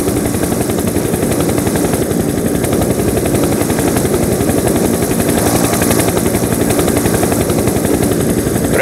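Rapid, continuous automatic gunfire from a strategy video game rattles loud and dense for the whole stretch, with a steady mechanical drone beneath and no voices.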